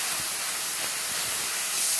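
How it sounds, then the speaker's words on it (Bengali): Spice mixture of ground cumin and coriander frying in a hot kadai for a vegetarian kohlrabi curry, a loud steady hiss and sizzle throughout, with no voices. "এবার মশলাটা ভালো করে কষে নেব।"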